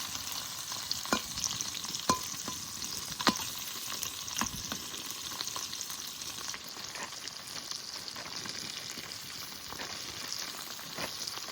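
River prawns fry in a pan in a village kitchen, a continuous close sizzle broken by intermittent sharp clicks of a spatula stirring against the metal.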